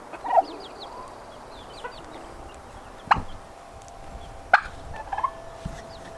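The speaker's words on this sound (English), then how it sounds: "In this little group right here, I have the 2 goslings, Roe the duck, 1 little black hen, another little black hen" Farm poultry including two goslings, a duck and small black hens, heard in scattered quiet peeps, clucks and a few sharper calls against a low background, some near and some farther off.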